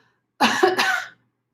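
A singing teacher's voice imitates a cough during a voice lesson, one short burst of about three-quarters of a second in two quick pushes, close and fairly loud, with no other talk.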